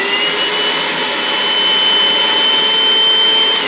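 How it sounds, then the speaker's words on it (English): An Einhell 18V cordless vacuum cleaner (TC-VC 18/15 Li) runs steadily up close, a constant loud motor whine with a high-pitched tonal hum and airflow rush, no voices. "I'll just turn on the vacuum so that you can hear how loud it is."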